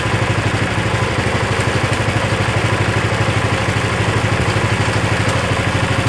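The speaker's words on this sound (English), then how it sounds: "this is a super quiet motor." An Ariens Power Brush 36 motor idles at close range, a steady, loud, evenly pulsing engine putter with a rhythmic low throb and no speech.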